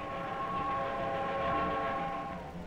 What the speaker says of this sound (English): The lonely wailing of the whistle, the long, heavy rush and rumble of the wheels.